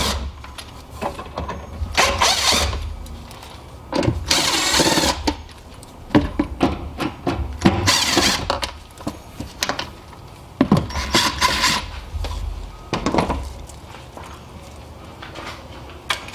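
A Phillips screwdriver backs out screws holding a trim panel over the battery of a 2007–2013 BMW X5 E70, with bursts of scraping, ratcheting and clicking separated by brief pauses, close and fairly loud.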